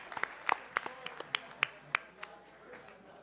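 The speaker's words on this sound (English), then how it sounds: "Let's give one more round of applause for our students" A small audience at a school board student recognition night gives a sparse round of applause. A handful of distinct, separate claps ring out irregularly, then thin out toward the end.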